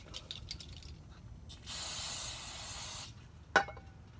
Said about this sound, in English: Brake cleaner, nothing special. Clean it good, remove all the rust.